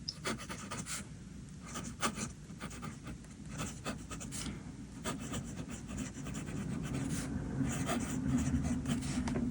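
Esterbrook Estie King of the Night fountain pen with a firm fine nib writing on paper, a faint, close scratchy stroking in irregular bursts of short strokes and pauses, heard alone.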